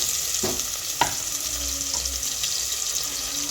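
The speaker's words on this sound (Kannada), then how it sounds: "ಈರುಳ್ಳಿ ಫ್ರೈ ಆದಮೇಲೆ ಜಜ್ಜಿಟ್ಟಿದ್ದು ಬೆಳ್ಳುಳ್ಳಿ ಮತ್ತು ಪುದೀನ ಕೊತ್ತಂಬರಿ ಇಷ್ಟು ಹಾಕ್ಕೊಂಡು ಈಗ ಅರಳಿಸ್ತಾ ಇದ್ದಾರೆ" Onions frying together with crushed garlic, mint and coriander for a home-style mutton curry: a continuous close sizzle with a couple of sharp stirring clinks early on, no talking.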